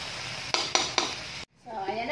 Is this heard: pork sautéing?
yes